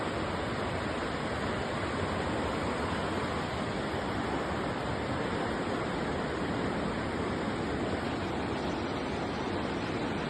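Devil's Creek rushing down its bed in a mountain area, a dense, steady roar of fast water filling the scene without pause, close and loud, no voices.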